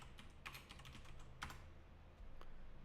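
Typing on a computer keyboard: a few faint, scattered keystrokes tap quietly and irregularly over soft background noise.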